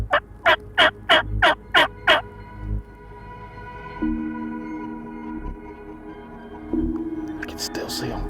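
Wild turkeys call in the Nebraska countryside during a hunt, opening with a rapid series of six loud gobbling yelps followed by quieter clucks and faint whispered talk.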